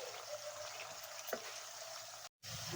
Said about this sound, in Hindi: प्याज को इस तेल में डालेंगे। हम इससे धीरे धीरे फ्राई करेंगे।